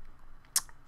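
One sharp keystroke click on a computer keyboard sounds while a date is typed into a folder name, brief and close against a quiet room.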